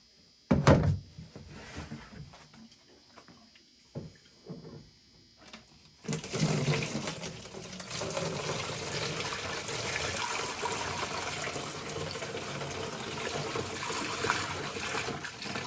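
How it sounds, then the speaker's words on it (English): Water is poured into and sloshed through the rusty fuel tank of a 1975 Yamaha DT125B motorcycle, a few knocks and thunks first, then a sustained loud rush and splashing of water pouring out. "So I'm gonna dump it out and start flushing out the tank with water."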